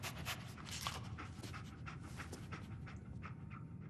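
Dogmeat, the dog companion in Fallout 4, pants rapidly and continuously at close range, a rhythmic huffing over faint game ambience with no speech.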